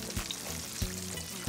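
Fish fries in hot oil with a steady, bubbling sizzle, close and moderately loud, with a couple of soft clunks from the pan along the way.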